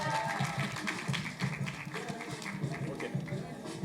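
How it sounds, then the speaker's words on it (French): A group at a live Catholic youth gathering claps for a volunteer, with quick uneven hand claps under scattered voices and murmuring, fairly close and moderately loud throughout. "Emmanuel, est-ce qu'on peut l'applaudir ?"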